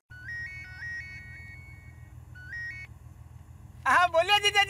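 A phone rings with a repeating electronic ringtone melody in two bursts over a low background hum, then a voice answers.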